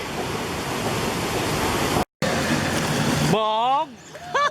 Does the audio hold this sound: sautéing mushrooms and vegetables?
no